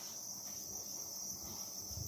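Crickets chirp steadily at a cricket-rearing farm, a continuous high-pitched trill holding even and moderately loud throughout, with faint low rustling underneath.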